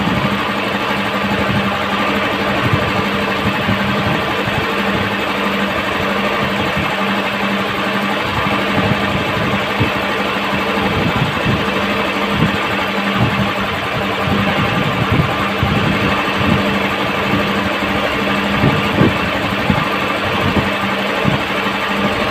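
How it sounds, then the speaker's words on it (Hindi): A Honda CG125 motorcycle engine idles slowly after a carburetor mixture adjustment, a steady close-up thrum with a fast, even mechanical patter that runs on without change. "तो अभी हमने बाइक को स्लो में खड़ी कर दी है।"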